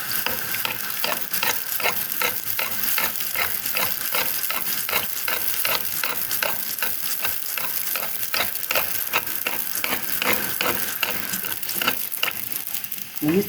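Oil heats and fries in a pan for Kabyle oil bread while being stirred, a constant loud crackling sizzle with rapid spattering pops and scraping stirs, close up and without voices.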